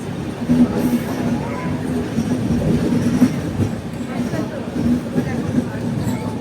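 A full Kirandul passenger train, number 58501 on the Visakhapatnam to Araku line, rumbles along with a steady clattering roll and faint wheel squeals, recorded from on board under a constant loud hum, with voices mixed in.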